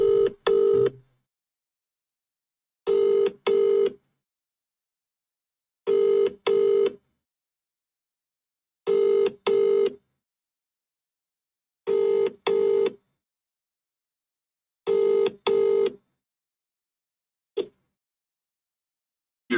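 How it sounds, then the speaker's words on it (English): A phone call rings out over the line after dialing, a steady run of loud double-burst ring tones repeating about every three seconds, alone and clear. "let's give this number a call"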